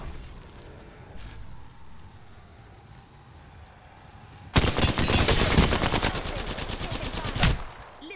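Bursts of gunfire from a firefight in the battle royale game Apex Legends erupt loudly about halfway through and continue rapidly to the end, after quieter game ambience with no speech.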